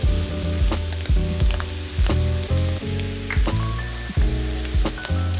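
Jalapeno peppers sizzling in a frying pan over already-browned food, a steady loud crackle broken by repeated stirring scrapes, no voices.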